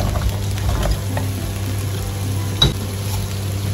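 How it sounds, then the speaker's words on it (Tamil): Sliced zucchini frying in a pan with garlic, a steady close sizzle that crackles on without pause, with one brief clink of a utensil partway through. "அடுத்து நீங்கள் இதில் சேர்க்குறது வந்து zucchini."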